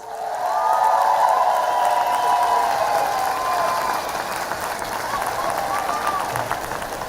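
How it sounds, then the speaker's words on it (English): A large audience at a college commencement ceremony applauds in a dense, sustained wash of clapping that holds steady for several seconds, with a sustained tone running underneath. "Can we give her a round of applause?"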